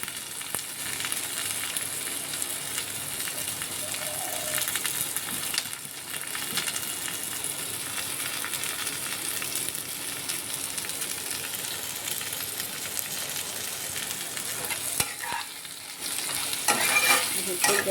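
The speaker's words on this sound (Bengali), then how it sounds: "সব মশলা দিয়ে ভাজা করতে হবে আর কি" Spices frying in a pan on the stove, turmeric and Kashmiri chilli among them, a steady close sizzle with soft stirring scrapes running continuously and evenly throughout.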